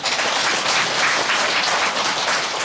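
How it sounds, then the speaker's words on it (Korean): Steady, dense applause from a congregation at a Buddhist temple service, Gilsangsa's first-of-the-month dharma gathering, filling the space evenly and fairly loud from start to finish with no talk. "호랑이도 박수 한번 쳐주세요"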